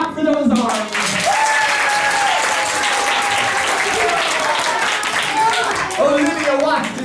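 Audience clapping during a live improvised adventure theater show, dense steady applause filling the room, with voices and a rising vocal tone mixed in over it.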